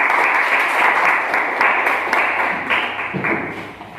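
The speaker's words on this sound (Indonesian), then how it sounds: "berikan tepuk tangan untuk kita semua" A classroom of students claps after a group presentation on Indonesia's geological setting, a short round of hand clapping that starts full and thins out over a few seconds, with scattered individual claps near the end.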